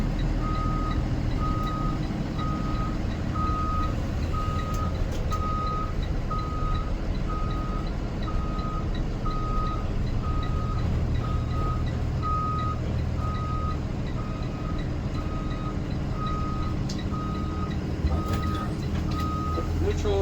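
A ThomasBuilt school bus backing up, its backup alarm sounding a steady, evenly spaced beep throughout over a constant idling diesel rumble, with a voice talking faintly in the background.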